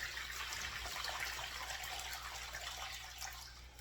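Warm tap water pouring into a plastic bus tub for sous-vide cooking, a steady broad rushing splash that holds constant and eases slightly toward the end, no speech.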